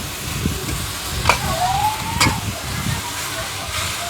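Food frying in a pan while being stirred and flipped, a steady close sizzle with scraping clatter of the utensil and a couple of sharper metallic scrapes.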